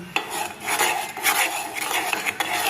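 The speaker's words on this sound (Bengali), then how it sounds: "দেখো হাত দিয়ে এরকম কনস্ট্যান্ট নাড়াতে হবে" Ghee being stirred by hand in a cooking pot, a spoon scraping and rasping against the metal in steady repeated strokes, close and fairly loud with no talking.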